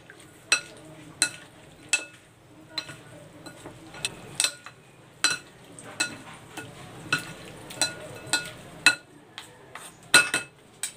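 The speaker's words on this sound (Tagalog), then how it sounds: "Then, hahaluin ko na." A spoon mixes ampalaya and radish salad with a vinegar mixture in a bowl, giving sharp, scattered clinks and scrapes at irregular intervals over a soft wet shuffle, quiet and close with no talking.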